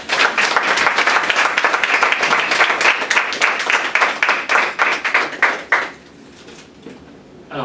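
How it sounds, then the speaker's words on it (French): Graduates at a perseverance diploma ceremony clap for themselves, a loud, close round of applause with distinct hand claps that fades out abruptly near the end, leaving quiet room tone. "Vous pouvez vous applaudir."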